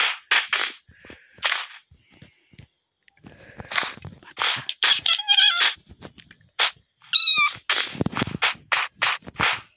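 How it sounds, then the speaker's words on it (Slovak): A Minecraft cat gives a few short, close meows in the middle, set among bursts of footsteps, block clicks and other sharp game effects, with gaps of near silence between them. "Máme mačku."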